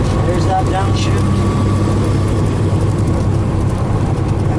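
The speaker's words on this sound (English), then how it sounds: "Foot off the throttle, downshift, throttle gently." A truck engine with a 13-speed transmission runs through a downshift, its low heavy drone steady and loud throughout, with a brief rise in pitch partway through.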